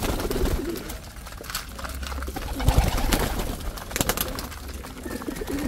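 Pigeons, including rare off-color young birds in a loft, coo steadily against a busy, noisy background with scattered rustles and clatter; no one speaks.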